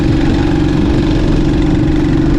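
A motorcycle engine idling loud and close, a steady low rumbling drone with even pulsing and no change in pace, heard alone without talk.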